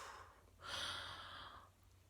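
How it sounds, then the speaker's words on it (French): During a singing warm-up exercise, a single soft breath is pushed out in a long, airy exhale. It is close and fairly quiet, with no voice over it. "Donc on souffle."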